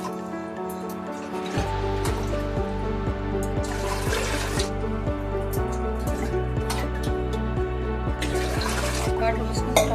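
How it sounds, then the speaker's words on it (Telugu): Water poured from a tap into a large pressure cooker, a continuous splashing flow with steady ringing tones and regular clicks throughout, no voices. "దాంట్లో వాటర్ పోసుకోవాలి."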